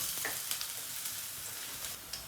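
Onions fry in hot oil until golden, giving a constant bright sizzle with occasional small crackles and stirring noises, fairly close and without any talk.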